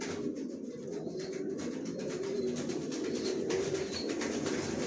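Racer pigeons in a loft give faint, low cooing over continuous background noise and scattered rustling, with no voices.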